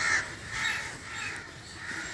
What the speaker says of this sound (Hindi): कौवे भी बहुत ज़्यादा है।